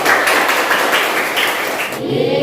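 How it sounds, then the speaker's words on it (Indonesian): A classroom of students claps hands together in a dense, steady burst of applause close by, with rhythmic slaps that end abruptly near the two-second mark. "Tepuk tangan untuk kalian."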